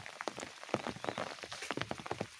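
Rain falls steadily in a mountain area during the rainy season, a close patter of many small drops striking a surface in an uneven rhythm, with no voices.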